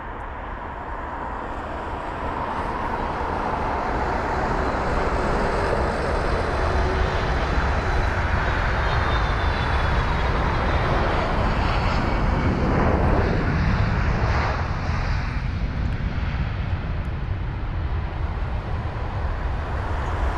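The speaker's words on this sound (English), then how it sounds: "What a landing there. And that's the 767." A Boeing 767 airliner lands at London Heathrow, a loud sustained engine roar that builds early, swells near the middle as it passes close, then eases slightly.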